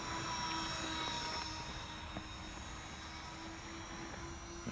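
An Eachine Flying Fish dual-engine mini EPP RC airplane, 650mm wingspan, makes a fast flyby, a steady high motor whine that is loudest at first and then eases slightly, with no voices.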